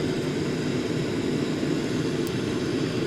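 Steady, loud roar of airliner engines at full throttle on a Boeing 787-9 in Microsoft Flight Simulator 2024, a continuous broadband drone with no talk.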